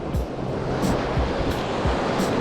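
Atlantic waves breaking on a rocky shore at sunset during sea bass fishing, a continuous loud surf roar with repeated thumps of water hitting rock, no talking.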